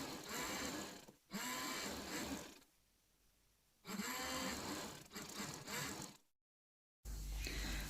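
A sewing machine stitches the side fitting seams of an umbrella frock in several close, loud bursts of rapid whirring, separated by short pauses and one complete silence.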